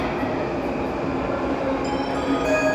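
A train rumbles steadily through a Tokyo station, a loud, constant rolling roar with thin metallic squeals and tones rising toward the end.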